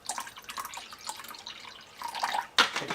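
Pineapple juice pours into a measuring cup for a pork injection, a close liquid trickle with small splashes and a sharper burst of pouring near the end.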